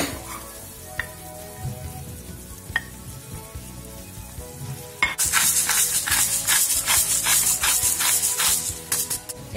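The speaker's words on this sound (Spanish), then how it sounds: "Tenemos el salmón salteado y ya le podemos añadir los garbanzos." Salmon and chickpeas sauté in a hot pan, a quiet faint sizzle giving way to a loud steady frying hiss with rhythmic stirring scrapes, no talking.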